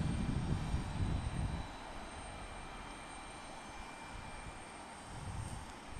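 Alaska Airlines airliner at Portland International Airport, a steady distant engine roar that is louder at first, settles into a quieter hum, then swells again near the end.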